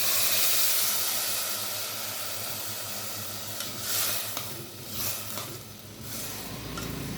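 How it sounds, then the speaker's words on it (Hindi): Water poured into a pan of frying vegetables and potatoes for a vegetable pulao sets off a loud, continuous steamy hiss and sizzle that wavers and swells in a few bursts without fading. "ये थोड़ा सा पानी डाल रही हूँ"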